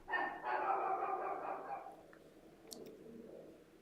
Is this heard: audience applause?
no